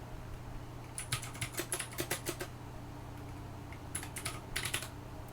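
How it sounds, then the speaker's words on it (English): Typing on a computer keyboard during a word-processing demonstration, two quick bursts of light clicking keystrokes at close range over a steady low hum, with no talking. "if I type something,"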